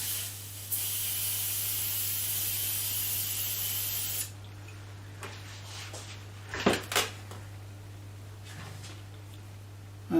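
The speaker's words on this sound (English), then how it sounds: "And then I'm spraying another time." Enamel is sprayed onto a copper bowl, a continuous hiss running for several seconds, then stopping, followed by light handling clicks and knocks over a low electrical hum.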